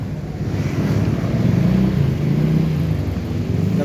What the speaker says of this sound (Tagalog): may motor dyan